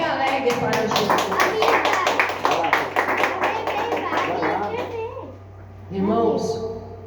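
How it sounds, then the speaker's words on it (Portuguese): A church congregation claps hands in a fast, lively rhythm for several seconds, close and fairly loud, with voices mixed in before the clapping fades and speech follows. "As palmas bem alegres para Jesus."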